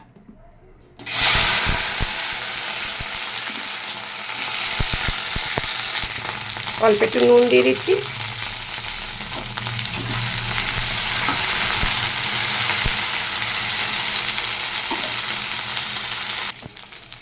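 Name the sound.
okra frying in pan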